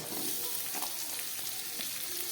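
Chopped onion and capsicum fry in hot oil, a continuous close sizzle broken by a few soft stirring scrapes, with no one talking.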